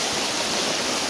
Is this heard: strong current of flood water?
yes